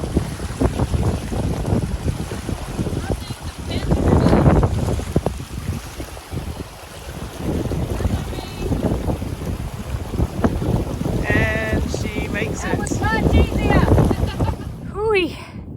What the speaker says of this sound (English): We're just crossing yet another creek in the pouring rain.